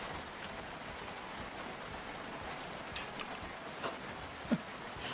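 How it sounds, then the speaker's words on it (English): Steady, dense rain hiss from the video game Project Zomboid, a constant close wash of falling rain with a few brief clicks and knocks rising above it, no voices. "Oh my goodness, that rain's noisy."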